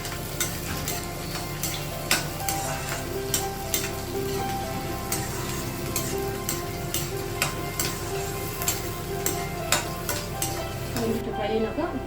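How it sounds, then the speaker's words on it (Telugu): Onion and seven green chillies frying in hot oil for a Telangana-style leafy greens dish, a loud continuous sizzle broken by regular scraping strokes of a spatula against the pan. "7 పచ్చిమిరపకాయలు చూడండి, ఫ్రై చేసుకోవాలి"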